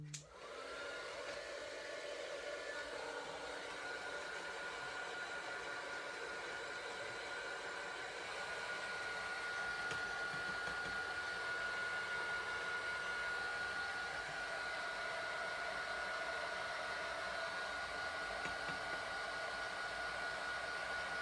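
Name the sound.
dryer blowing to dry alcohol ink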